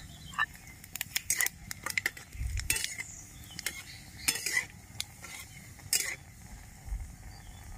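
Nigella seeds and a dried red chilli dropped into hot oil in a wok give a soft crackling sizzle, broken by sharp metallic clinks and scrapes of a utensil against the pan, close by, no voices.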